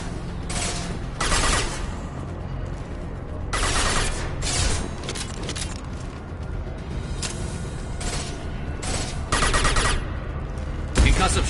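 Gunfire from Mass Effect 2 comes in repeated bursts of sharp shots, loud and close, with mechanical clanks between volleys and some faint voices.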